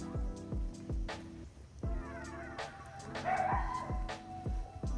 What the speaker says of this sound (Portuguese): E tem um cachorro do outro lado latindo.